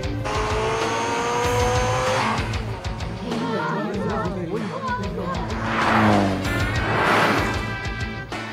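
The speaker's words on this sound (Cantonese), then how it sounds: "有好多架車嚟緊喎， 我聽到混雜住旋轉引擎嘅聲喎。" Several racing cars, some with rotary engines, approach in an anime street-racing scene, their engine whines and revs layered together and loud throughout, with shifting pitch and possible tire noise.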